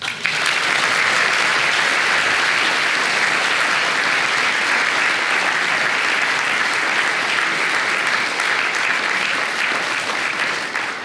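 Sustained, loud applause from a crowd honoring new inductees at a Hall of Fame ceremony, steady clapping filling the room without a break for about eleven seconds.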